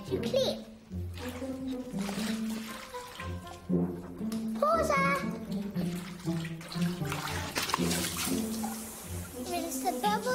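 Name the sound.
washing a pet dinosaur with water and bubbles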